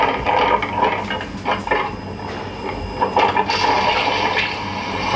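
Water rushes noisily into a car cabin, a loud, continuous gushing and churning torrent that fills the space with steady turbulent splashing and no voices.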